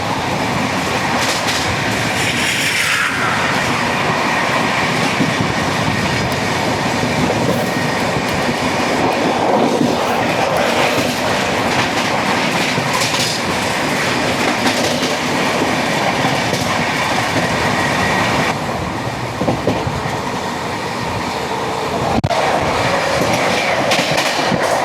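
The Sampark Kranti passenger train, running at speed from Chandigarh toward Kerala past a container train, gives a loud, continuous rumble with clickety-clack of wheels on rail joints and brief squeals, heard close from inside throughout.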